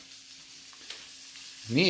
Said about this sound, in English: So we got the mushrooms sizzling away in that butter